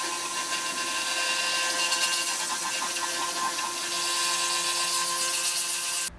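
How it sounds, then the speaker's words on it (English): A pressure washer rinsing caustic EnviroStrip emulsion remover off a printing screen, a loud, steady, hissing spray with a constant motor whine that holds for several seconds and then cuts off. "then go in with my pressure washer"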